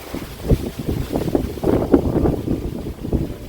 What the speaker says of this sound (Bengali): দরজাও বন্ধ হয়ে গেছে, এত জোরে হাওয়া দিচ্ছে